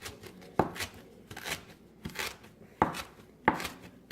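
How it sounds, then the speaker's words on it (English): A knife rough-chops cilantro leaves on a cutting board, with a handful of crisp, irregular thuds and scraping strokes spaced about a second apart, close and clear with no talking. "you're going to get a rough chop of all of the leaves"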